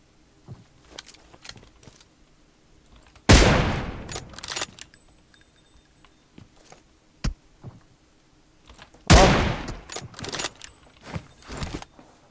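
Two loud bursts of rapid gunfire from the game PUBG Mobile, a few seconds apart, with scattered clicks and small noises in between; no one speaks.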